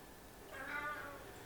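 A pet cat gives a single drawn-out meow, soft and fairly close, with no talking over it.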